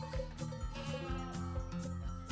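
Repeated bleating from several goats in the Taurus Mountains, steady and fairly close, with overlapping calls and no talking.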